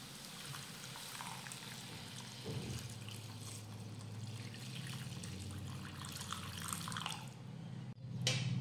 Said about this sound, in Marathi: यामध्ये घालूयात गरम पाणी